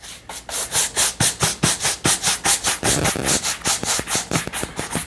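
A leather shoe is buffed to a shine with quick back-and-forth rubbing strokes. The strokes form a steady, loud swishing rhythm of about four per second, close up and with no talking.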